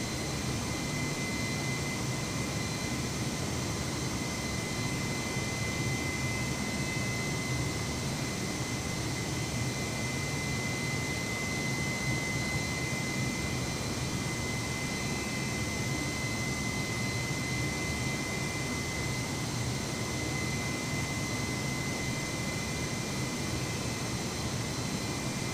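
Airbus airliner jet engines in Microsoft Flight Simulator 2020, heard as a constant, loud, broadband roar with a steady whine. It continues evenly with no breaks or talk.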